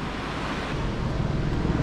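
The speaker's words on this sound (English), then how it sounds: "I think it got too windy and now it's getting dark soon" Strong wind on the Norwegian coast roaring steadily into the microphone as a loud, dense, buffeting rush, with surf-like noise and no voices.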